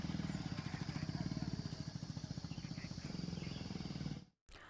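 Motorbike carrying seven riders passing by on a road, a steady close engine chug with rapid regular pulsing that holds for about four seconds, then cuts off abruptly, with some background noise returning after.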